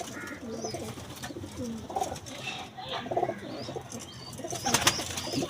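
A Teddy breed pigeon coos in repeated soft, throaty phrases close by, with faint chirps and background noise around it.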